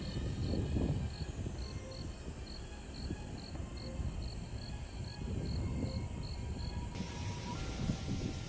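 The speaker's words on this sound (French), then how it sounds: "Une invasion de grillons a causé des problèmes à de nombreuses personnes à Ashton, Idaho" Crickets swarming in Ashton, Idaho chirp in a steady, regularly pulsed high trill that runs nearly throughout, over a constant low rumble of background noise.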